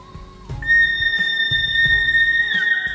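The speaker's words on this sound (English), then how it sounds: "Yep, the reverb's back on the whistle." A sustained whistle melody with a reverberant tail rings over a rhythmic music mix with steady drum hits.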